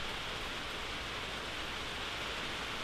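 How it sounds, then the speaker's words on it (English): Wind-blown rain during a hurricane makes a dense, unbroken hiss that stays constant and fairly faint, with no other sounds rising above it. "That was just the wind blowing the rain."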